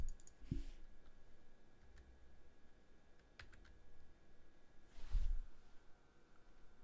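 Computer keyboard typing during a live-stream sneaker checkout setup, with a few scattered soft clicks and a couple of heavier thumps near the start and end; faint, sparse and close, with no talk.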